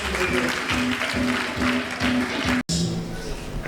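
An audience applauds at a university graduation ceremony, a fairly loud continuous wash of clapping with a steady tonal hum beneath and a brief cut near the end.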